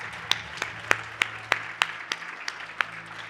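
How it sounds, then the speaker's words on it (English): Sparse clapping at a business awards ceremony, about ten distinct claps in a slow, evenly spaced rhythm, fairly quiet against a low room hum. "lovely applause again for Captain Sano."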